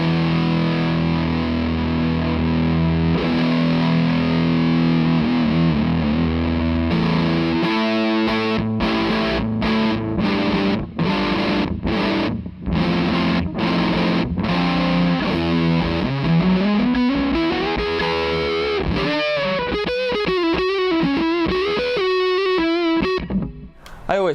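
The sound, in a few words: electric guitar through maxed fuzz pedal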